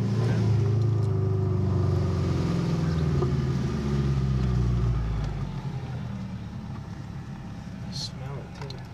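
A turbocharged Subaru EA82T engine in a GL-10 idles roughly with a loud, uneven puttering drone close by, easing slightly in level midway as people talk over it.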